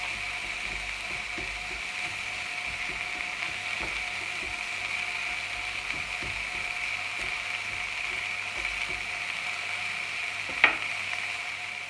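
Pancetta cooks in its own rendered fat in a pan over medium heat, giving a steady, close hiss of sizzling with faint ticks and pops and one sharper crackle near the end, and no voices.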